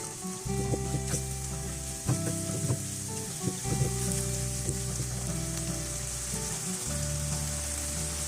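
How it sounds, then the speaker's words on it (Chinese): Lemon coconut curry shrimp sauce bubbles and sizzles hard in a pan over high heat, a steady loud frying hiss with occasional pops and soft stirring scrapes throughout. "用大火收汁。"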